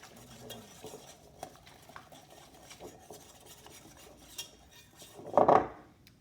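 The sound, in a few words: whisking eggs and cooking oil in a bowl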